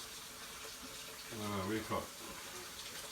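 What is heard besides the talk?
tap water running for gravy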